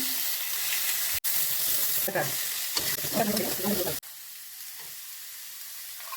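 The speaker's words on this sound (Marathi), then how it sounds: "तूप तापलंय मोहरी टाकायची आणि जिरा आपण तयार केलेली पेस्ट टाकायची" Mustard seeds, cumin and a ground paste sizzle loudly in hot ghee for a samosa filling, a steady close crackling hiss with brief dips, no talking.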